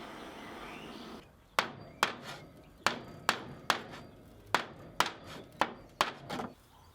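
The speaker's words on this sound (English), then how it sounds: "I'm there banging away with a hammer and a blowtorch" A hammer strikes metal heated with a blowtorch and clamped on a workbench with wood between, during a backyard pond build, about a dozen sharp separate blows in an uneven rhythm, close and loud after a moment of low background noise.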